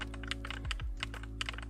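Quick typing on a new computer keyboard while playing TETR.IO: a close, brisk flurry of clicky keystrokes over a low steady hum, with no voice.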